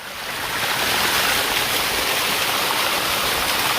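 Water from a natural spring flows steadily and fairly close, a continuous broadband rush and babble that holds level throughout with no voices.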